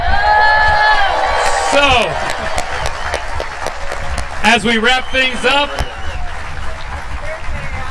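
A crowd at the 2025 U.S. Open Pickleball Championships applauds and cheers Andre Agassi on his birthday. The applause is steady and fills the whole stretch, with a whoop or two, while an announcer talks loudly over it.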